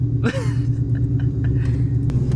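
A 1996-2004 Ford Mustang engine fitted with an N2MB WOTBOX rev limiter, a loud, steady low rumble held at high revs close by, with a brief voice over it.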